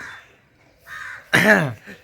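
A crow caws in a village setting: a faint call, a second, louder one, then a loud, harsh caw with a short tail at the end. The calls are clear against a quiet background.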